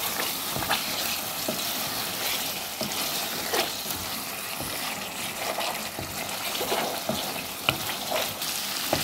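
Eggs fry in a pan for egg bhuna, a dense continuous sizzle with frequent spatula scrapes and crackles, close and fairly loud throughout, with no one speaking.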